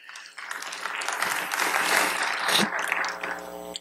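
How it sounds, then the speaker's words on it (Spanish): A church congregation applauding during a Baptist sermon, several seconds of loud, dense clapping that rises quickly and fades at the end. "Denle palmas a Cristo"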